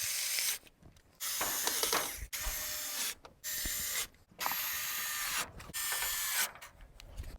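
Screws are driven into a car's wiper cowl with a ratcheting tool. Each burst of quick ratchet clicks lasts about a second, and short gaps separate the bursts in a repeating rhythm, heard up close with no talk.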